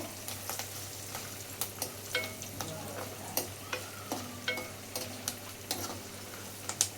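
Ingredients fry and sizzle in a kadai pan at home, a soft steady crackle with light scattered clinks and stirring taps, fairly quiet and close.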